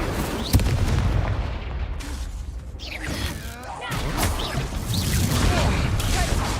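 Confringo spell explosions in Hogwarts Legacy ring out as a dense barrage of loud booms and blasts, one sharp crack early, rumbling continuously with bursts of game noise.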